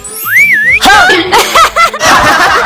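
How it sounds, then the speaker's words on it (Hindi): A cartoon character in a school comedy gives a rising and falling wolf whistle at the new teacher. Laughter and excited voices follow it closely. "सर मैडम को देख के सीटी मारे।"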